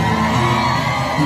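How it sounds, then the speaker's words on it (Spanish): A crowd at a live concert shouts and cheers in one loud, dense roar that carries unbroken through the whole moment. "el público está gritando con nosotros"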